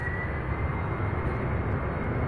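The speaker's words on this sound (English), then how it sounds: "take off a 767" A Boeing 767 taking off, heard as a steady broadband jet roar at moderate distance, continuous and unbroken, with no voices.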